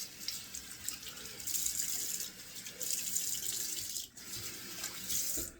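Tap water runs steadily into a sink while a shaving brush is rinsed under it, a soft close splashing that briefly cuts out and resumes.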